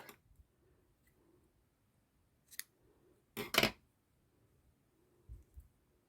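Scissors snip crochet yarn in a quiet room: a few faint clicks, then one sharp, close double-snip cut, and a soft final click.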